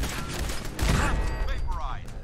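Turret gunfire in Fallout 4 VR erupts as a burst of rattling shots and mechanical clatter inside a facility, loud and close, with a voice speaking over it.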